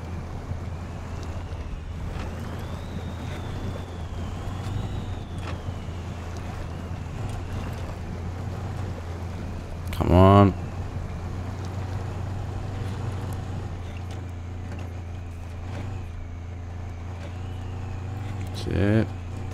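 An R&R Customs 3500 truck in SnowRunner grinds through rough terrain on Shiner Mountain, its engine humming low and steady with occasional sharp revving surges, while someone talks over it.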